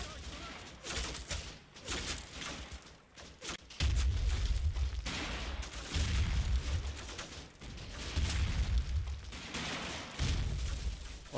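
Dense gunfire and heavy booming mortar rounds in the WWII strategy game Combat Mission Fortress Italy, with rapid volleys and deep thuds overlapping continuously and loudly throughout.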